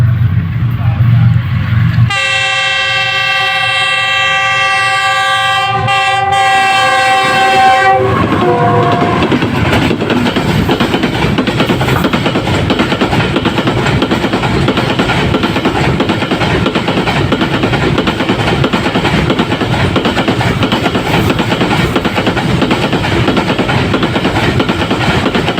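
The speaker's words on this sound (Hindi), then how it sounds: "किला सत्तार शाह 9020 की लीड के साथ जहानिया रेलवे स्टेशन से पास करते हुए" Train with a Qilla Sattar Shah 9020 locomotive in the lead passes through Jahania railway station: a loud, long multi-tone horn blast for several seconds, then a close, heavy rumble and rhythmic clatter of wheels and cars rolling steadily past.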